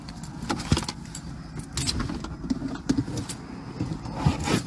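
Keys jangle in irregular metallic bursts beside a car during a roadside traffic stop, with soft vehicle rumble and clicks underneath.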